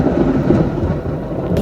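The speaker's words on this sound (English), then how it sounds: "it rained for longer than I can remember in a long time" Heavy rain pours down at night in a South Florida summer, a dense, steady roar of falling water with a low rumble underneath, loud and continuous throughout with no voices.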